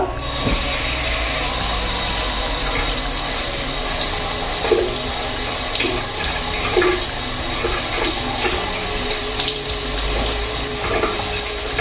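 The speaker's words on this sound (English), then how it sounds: "We'll run some warm running water." Warm water runs continuously from a tap into a sink, a steady close rush with faint clinks and the scraping of a scourer on a glass jar underneath.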